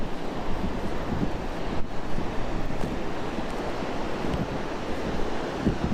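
Ocean surf washes steadily onto a beach on a hot, sunny day, a continuous broadband rush with wind buffeting the microphone and no clear breaks between waves.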